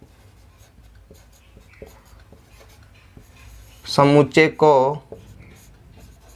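Marker or chalk writing on a board during a Hindi maths lesson on sets, faint scratchy strokes running steadily through the clip, broken by a short burst of the teacher talking.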